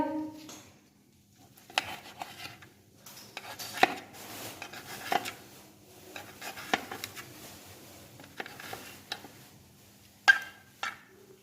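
A knife chopping chicken gizzards in a home kitchen, with irregular light taps and clicks of the blade against a board and utensils, fairly faint and sparse over a quiet background.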